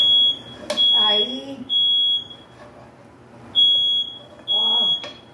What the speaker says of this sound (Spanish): Que esta fue la alarma.